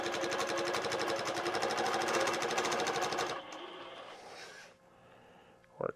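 A sewing machine stitches in the ditch while machine quilting with a ruler, a loud rapid even stitching rhythm for about three seconds that stops, leaving quiet handling sounds.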